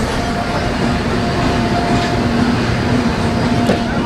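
A passenger train from Howrah pulls into Kharagpur station, heard from inside as a loud, steady rumble of wheels and carriage noise with faint rhythmic clatter.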